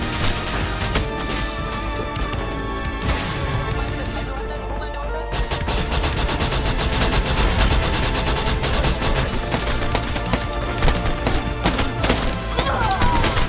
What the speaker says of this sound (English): Shoot the enemy, guys.